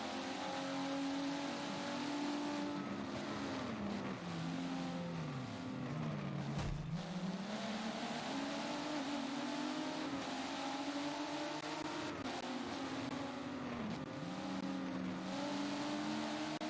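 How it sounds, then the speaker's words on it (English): Race car engines in a Brands Hatch esports racing game drone and rev continuously, pitch rising and falling through gear changes, with a brief dip and resurge of several cars mid-way, loud and unbroken throughout. "We can see here the Zotac car just lapped one of the cars there."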